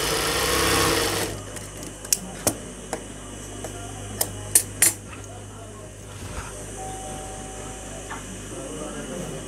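A sewing machine stitches a salwar in a short, loud whirring run that stops abruptly, followed by scattered clicks and handling taps as a person talks.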